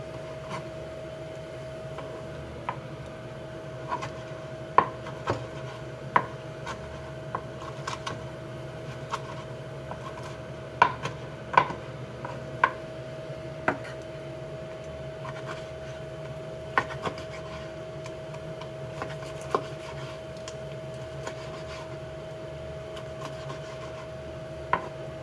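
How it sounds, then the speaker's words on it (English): Knife slicing steak into strips for tacos on a board, a steady run of faint, sparse ticks and taps against a constant low hum, with no voices. "I'm just gonna cut into strips."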